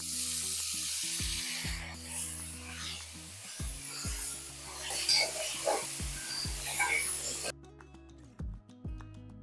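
Three tomatoes and onions sauté in a pan for hotel-style wedding sambar, giving a steady close sizzle with rhythmic spatula scrapes and knocks against the pan, then falling quieter near the end.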